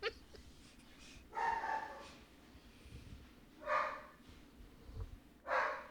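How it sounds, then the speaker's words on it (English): Several dogs bark in short bursts from another room, faint and somewhat distant, with three or four separate barking spells over steady background noise. "You guys may or may not hear my dogs barking."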